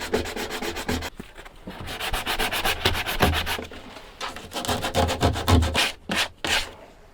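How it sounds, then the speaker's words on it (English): Hand sanding of wooden pocket-hole plugs during a Sprinter van build, a close, steady series of rhythmic rasping strokes that comes in bursts with short pauses, alone without speech. "Let me sand down these plugs for the pocket holes"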